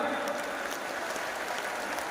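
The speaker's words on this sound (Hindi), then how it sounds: "दोनों हाथ उठा के पहले ताली बजाओ" A large crowd at a mass wedding ceremony keeps up very soft, even clapping, a hushed continuous patter of many hands with no voices over it.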